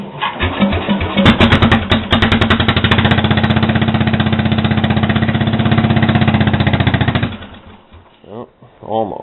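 An old tractor nicknamed Knocker is cranked on a cold start, a loud rapid rhythmic chugging of the starter and engine that lasts several seconds, then stops, leaving softer sounds.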